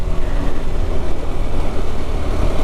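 A motorcycle engine drones steadily during a ride through southern Ecuador, the loud, continuous hum mixed with wind noise.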